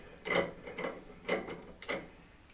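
A handle on a budget 360-degree movable bow vise is wheeled in and tightened, giving ratcheting mechanical clicks in three or four short bursts, close by and without talk.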